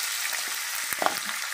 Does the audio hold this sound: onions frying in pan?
yes